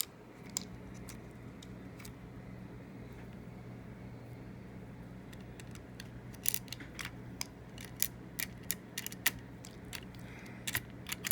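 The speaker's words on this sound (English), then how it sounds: "Just gonna screw your fan back down." A Mac's internal fan is screwed back down by hand with small screws, giving faint sporadic clicks and ticks of a screwdriver and screws that grow more frequent toward the end over a low steady background hum.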